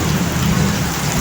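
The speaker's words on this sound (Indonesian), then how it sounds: "hujan es" Heavy hailstorm with rain pouring down in Bagor, Nganjuk, East Java, a dense, loud, continuous roar of drops and ice hammering surfaces close by, with no voices.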